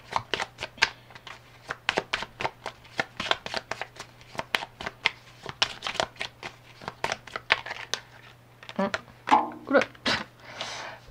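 Tarot cards being shuffled and drawn, a long run of crisp rapid flicks and slaps close up, steady and rhythmic, with a brief bit of quiet talking near the end.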